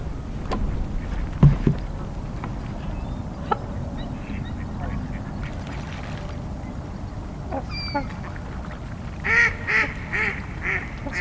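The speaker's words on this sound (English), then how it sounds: "There's also some trumpeter swans here too." Trumpeter swans on a lake in winter give several honking, bugle-like calls at a moderate distance. A brief series clusters near the end over a low, steady outdoor background.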